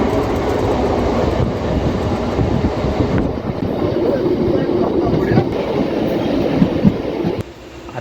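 A Diva–Roha train rumbles along the rails toward Panvel, a loud, dense roar with rhythmic clatter throughout, ending abruptly near the close.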